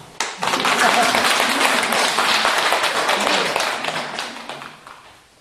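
A small group claps together for several seconds during an intimate Korean healing-story talk session, the clapping steady and fairly close before fading out, with voices murmuring underneath.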